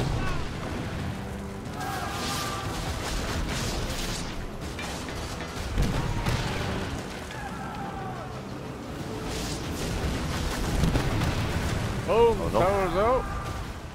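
Ship cannons firing in the naval pirate game Skull and Bones, a few heavy booms amid sea and battle noise, with players talking over it.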